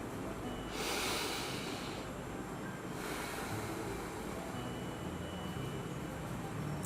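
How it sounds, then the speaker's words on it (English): A long, deep breath taken close to the mic: a slow, rushing inhale followed by a steady, breathy exhale, loud and with no talking. "Close your eyes and like this, take very long, deep breath"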